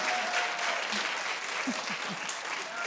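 A talk-show studio audience bursts into steady applause, dense clapping that fills the whole short stretch, while a voice speaks faintly underneath.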